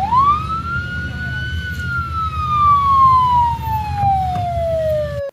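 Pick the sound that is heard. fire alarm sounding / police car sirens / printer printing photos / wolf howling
police car sirens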